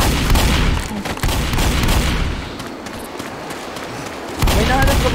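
Dense, loud Left 4 Dead gunfire fills the scene as a continuous barrage of rapid shots and booms, easing slightly midway before surging again.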